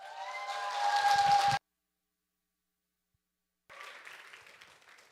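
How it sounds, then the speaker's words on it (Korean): Applause greets a presenter at a church forum camp, a swelling burst of clapping cut off abruptly, a gap of silence, then quieter clapping returning and fading, with a faint steady tone under the first burst. "큰 박수로 환영해 주시면 감사하겠습니다"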